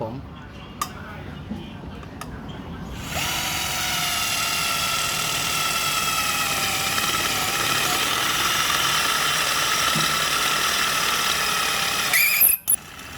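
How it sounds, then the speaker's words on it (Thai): A New bolic drill bores into 4 mm thick steel box tube: after a few clicks it whines in one steady, loud, high-pitched tone for about nine seconds, then stops with a rattle. "อ่ะเดี๋ยวจะเจาะให้ดูพี่ว่าเจาะง่ายไหม"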